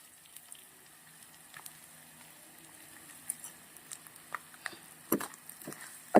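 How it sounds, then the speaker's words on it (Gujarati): Potatoes frying in hot oil for sabudana khichdi, soft crackling and sizzling that starts faint and grows busier, with scattered pops and a sharp clink near the end. "2 મિનિટ જેવું બટાકાને મસ્ત શેકી લેશું તેલના અંદર"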